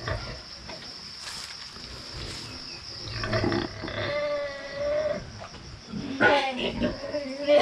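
Pigs grunt and squeal in a farm pen at cleaning time, the calls rising in bursts near the middle and end over a steady background hiss, with someone talking at moments.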